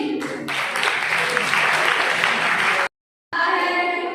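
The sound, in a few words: audience applause at a college poetry event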